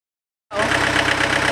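Diesel engine on a test stand throttled up and firing on fuel, starting abruptly after half a second of silence and then running as a loud, steady, close rumble with a rhythmic low-end knock.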